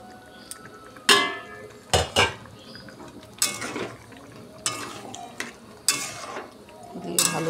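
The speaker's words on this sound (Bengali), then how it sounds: "এখন আমি এর মধ্যে ভেজে রাখা চিকেনগুলো ঢেলে দেব।" Fried chicken tipped into cooked masala in a metal pan and stirred, with repeated loud clanks and scrapes of utensils against the pan over a low background sizzle.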